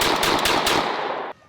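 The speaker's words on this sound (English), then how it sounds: "13 rounds before it jams? Not bad. When you're rapid firing." A shotgun fired rapidly in a fast, dense burst of loud, close shots that ends abruptly as the gun jams, followed by quiet.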